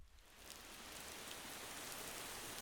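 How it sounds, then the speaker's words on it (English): Rain sample from the Cashmere sound pack, a soft steady hiss of rainfall on a surface that builds in over the first half second and then holds evenly before stopping abruptly. "And I've also added this rain here from Kashmir."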